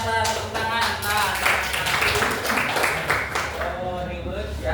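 A classroom of vocational school students in an Islamic studies lesson claps in a loose rhythmic pattern, the taps steady and fairly loud, while voices chant or talk over the clapping throughout.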